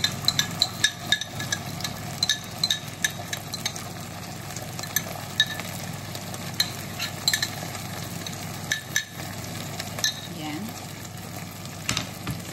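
Sweet and sour sauce thickened with cornstarch being stirred quickly in a pan for meatballs, quiet bubbling with repeated sharp clinks and scrapes of a utensil against the pan, and a voice faintly in the background.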